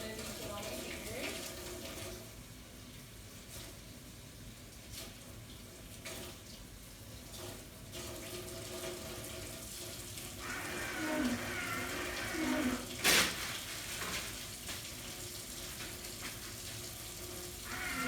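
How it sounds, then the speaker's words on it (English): Running tap water splashes steadily in a sink while hands are washed in a clinical setting, a faint continuous flow with brief louder bursts midway; a person speaks over it. "When washing my hands, I want to make sure I wash for a full 30 seconds, getting under the nails and then using all my fingers."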